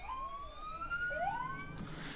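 An ambulance siren wails in rising and falling sweeps, moderately distant, over a steady background rumble on a road near Popayán, Colombia.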